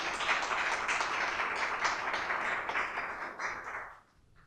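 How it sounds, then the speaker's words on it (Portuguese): A ceremony audience applauds steadily, a full, even wash of clapping lasting about four seconds before dying away into quiet. "Eu não sei se eu pedi uma salva de palmas para ela"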